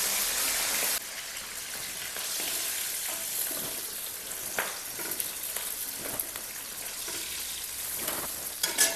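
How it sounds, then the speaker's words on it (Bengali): Turmeric-rubbed fish fries in hot oil for Bengali village-style cooking, a loud, steady crackling sizzle with a brief abrupt shift early on and a few sharp pops toward the end, no voices. "মাছটাকে একদম লাল করে ভেজে নেব।"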